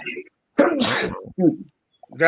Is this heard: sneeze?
yes